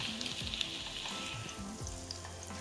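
Zucchini pancakes sizzle steadily in hot oil in a frying pan, a close, continuous crackling fry with no pauses and no voices.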